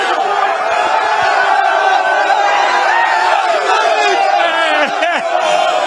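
Corinthians football fans sing and chant together as a massive, roaring crowd, the sound dense and continuous, with whistles and shouts rising out of the mass of voices.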